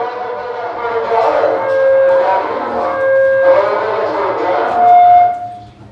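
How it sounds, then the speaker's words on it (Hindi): A police siren wails in the background with rising and falling tones, repeating over several seconds amid general noise. "देखिए फिर से आने लगा सायरन पुलिस की।"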